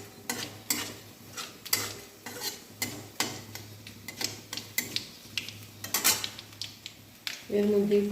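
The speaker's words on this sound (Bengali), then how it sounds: "এরপর একটু কালো সর্ষে ফোড়ন দেব" Black mustard seeds tempering in hot oil crackle and pop in quick, irregular bursts, close and fairly loud, with a spoon clinking against the pan toward the end.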